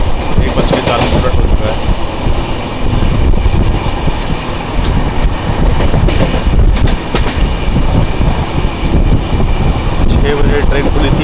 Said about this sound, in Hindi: तो अभी देखिए ये ट्रेन जस्ट आसनसोल पहुंचने वाली है